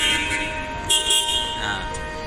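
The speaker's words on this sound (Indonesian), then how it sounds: "Nah ini juga ada dilengkapi dengan klakson juga ya teman-teman ya." A new Komatsu WA200 wheel loader sounds its horn in one continuous, loud, nasal blare lasting about two seconds, heard up close.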